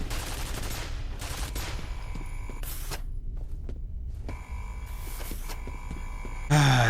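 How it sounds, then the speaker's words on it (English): Automated turrets in the shooter F.E.A.R. firing dense, continuous bursts of gunfire with short pauses, loud and close over a droning game backdrop. "I hate the turrets."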